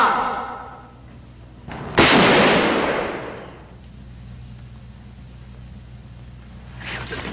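A single loud gunshot with a long echoing decay rings out in a 1946 film chase scene, followed by quieter outdoor ambience and a faint second burst near the end.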